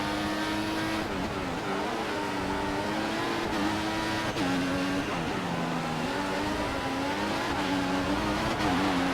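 A Formula 1 race car engine in the F1 2014 video game at the Russian Grand Prix, running hot, holds a loud, continuous high-pitched whine whose pitch rises and dips with gear changes through the whole stretch.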